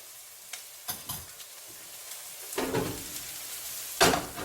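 Julienned carrots stir-fried in oil with salt, with a soft sizzle under a few sharp scraping and tossing strokes of a spatula in the pan, and no voices.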